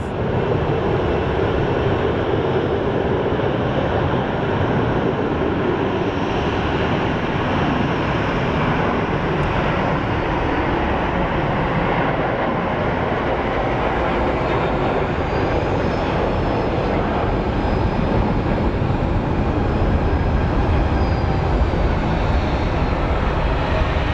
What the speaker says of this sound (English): we have this plane getting ready to take off.